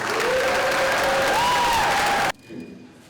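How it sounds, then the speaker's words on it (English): Audience applause for an 8th grade orchestra at a school instrumental spring concert, loud steady clapping with a tonal whine behind it for about two seconds, then cutting off abruptly to quiet room sound. "So how about a nice round of applause for our 8th graders."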